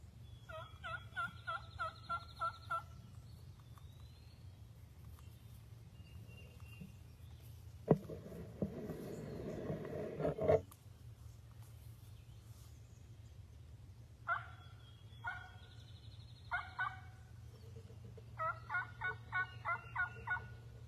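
A wild turkey gobbling repeatedly in short rapid bursts at mid distance, with a quieter rough stretch in the middle and more rattling gobbles later over a low steady hum.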